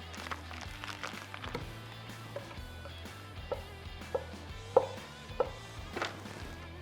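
Knife dicing on a cutting board for Louisiana-style red beans and rice, a series of soft, irregular chopping knocks, some sharper thuds among them, fairly quiet against a low room hum.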